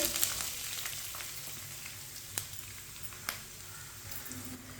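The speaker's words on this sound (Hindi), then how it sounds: "आधी चमची साबुत जीरा, एक बड़ी कटा हुआ प्याज डालेंगे" Chopped onion and whole cumin fry in oil for chicken macaroni, a soft, steady sizzle with a few sharp clicks of a utensil against the pan and no voices.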